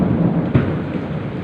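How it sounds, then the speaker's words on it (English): Heavy storm rain pouring steadily and close, with a low rumble of thunder and a brief louder burst partway through, during a storm with a power outage. "The rain is now almost coming to a stop"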